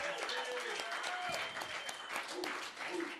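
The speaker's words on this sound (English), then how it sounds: "big, huge round of applause for Casey Bear making Livestream happen." Loud applause from a crowd at a livestreamed music performance, dense clapping that fills the whole stretch with cheering voices mixed in.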